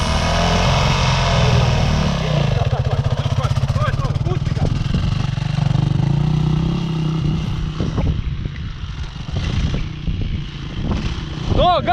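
A dirt bike engine revs and drones steadily as a learner rides it, its throttle rising and falling close by while people shout and talk over the noise.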